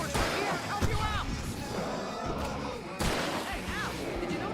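Gunfire and impacts in the Alan Wake video game, heavy bursts and crashes over a dense rumbling game soundtrack, with louder blasts near the start and again midway, and voices under the action.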